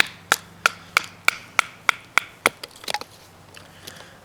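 A Bark River Northstar knife is batoned down through a quartered piece of wood, a run of about eight sharp, evenly spaced knocks up close, followed by quicker, softer cracking and rubbing as the split opens.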